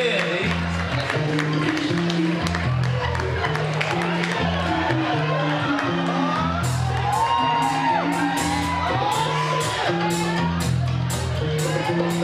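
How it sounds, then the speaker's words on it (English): An audience at a live comedy show in Uptown, with loud, steady cheering, whooping and shouting, while a performer's voice booms over the crowd. "Y'all start clapping right now. Put your hands together right now."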